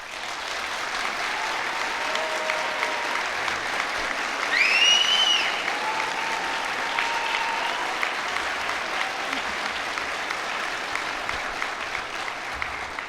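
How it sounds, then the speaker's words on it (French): Sustained, even applause from an audience honouring graduates at a university faculty graduation ceremony, a dense wash of clapping from many hands lasting throughout, with a brief whistle rising above it. "J'invite donc toute l'assistance à vous applaudir chaleureusement"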